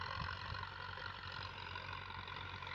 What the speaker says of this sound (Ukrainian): Отак працює трактор.